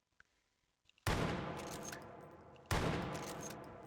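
Mosin Nagant rifle firing in the H3VR virtual reality shooter: after a few faint clicks, two loud, sharp shots about a second and a half apart, each with a long, decaying echo.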